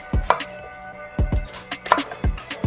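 A knife chops onions on a cutting board in four clear, evenly spaced strikes, each thud trailed by a lighter tap, close by with no talking.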